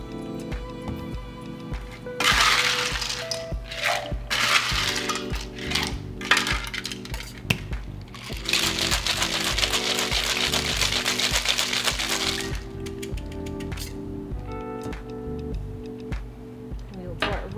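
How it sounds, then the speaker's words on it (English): Lemon drop mojito with fresh pineapple juice being shaken in a metal shaker tin, giving bursts of rapid rattling ice over a steady background tone, with pauses between the shakes. "Now we'll pour it into our shaker tin and we will shake."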